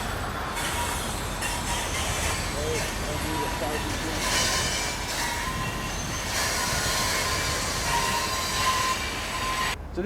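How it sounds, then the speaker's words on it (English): A cargo train stopping at Kenora, Ontario, beside Lake of the Woods: a loud, continuous rolling rumble of rail cars with scattered wheel squeals and metallic screeching throughout. "This has to be the most interesting spot ever that I've seen a train stop."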